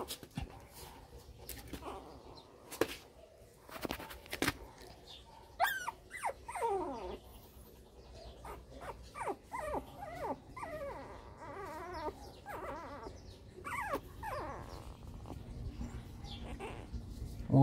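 Newborn Shih Tzu puppies whimper, squeak and growl softly up close, in scattered high cries with small grunts between them, while a person speaks quietly now and then.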